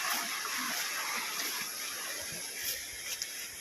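Strong floodwater rushing through a flooded rice-field area after a typhoon, a steady broad hiss of churning water with small splashes, moderately loud and continuous with no talking.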